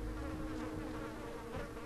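Flies buzzing in Vampire: The Masquerade – Bloodlines, a faint continuous droning hum with slight wavering, steady and low in level, no voices.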